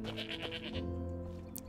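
Goats bleating in the video game Enderal, a quick series of about six nasal bleats in the first second, fairly close, over a steady low ambient hum that carries on alone afterward.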